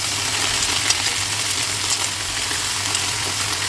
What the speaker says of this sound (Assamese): এইখিনি এতিয়া ধুনীয়াকৈ লাল কৰি ভাজি লওঁ